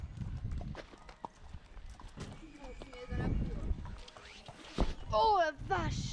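Hooves of a young pony clip-clop across a dressage arena in irregular, moderately close steps, with people chatting in French over them.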